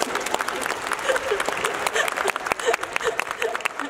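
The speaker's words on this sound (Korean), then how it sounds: "관객분들 김준 감독님에게 우리 함께 힘찬 박수 한번 보내십시다." Audience applause fills a film festival open talk in Busan, dense steady clapping from a crowd that continues throughout, with a voice speaking over it.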